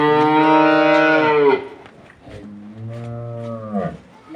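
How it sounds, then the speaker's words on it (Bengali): A Holstein Friesian dairy cow gives two loud, close moos. The first is long and resonant, and the second, shorter one follows after a brief pause. "এটাই হচ্ছে গাভী।"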